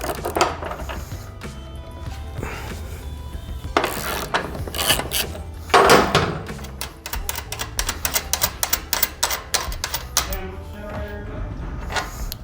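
A ratchet socket wrench works on the rear axle nut of a 2023 BMW M 1000 RR, giving off close, sharp clicking in quick bursts that start and stop throughout, with a few heavier clunks of metal between them.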